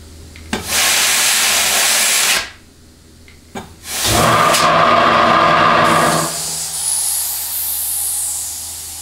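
Compressed air at about 85 to 100 PSI hisses loudly from a nozzle into a clutch circuit of a 6L90 transmission, in two close bursts with a pause between them, followed by a fainter trailing hiss of air escaping.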